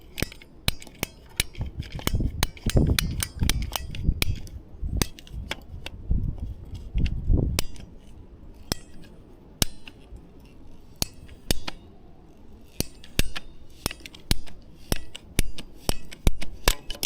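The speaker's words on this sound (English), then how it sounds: "Okay, so now we have our pipe cut" Hand cutters snip through PVC electrical conduit pipe in a run of sharp, close clicks and ratcheting snaps, irregularly spaced, with softer handling rustle between them.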